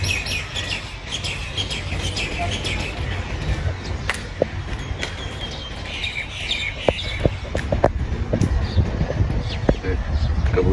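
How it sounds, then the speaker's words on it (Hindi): Pigeons calling outdoors in Dubai near a mosque and garden on a cloudy day, with chirps and short calls scattered over steady background noise and a voice talking at times. "कबूतर देखो माशाल्लाह, अपना खा पी रहा है, नाश्ता वाश्ता कर रहा है।"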